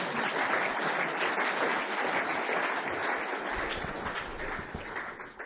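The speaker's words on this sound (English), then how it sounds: "if you wanted to clap," A conference audience at an opening ceremony applauds steadily and densely, a continuous, fairly close wash of many hands clapping that holds at an even level throughout with no talk over it.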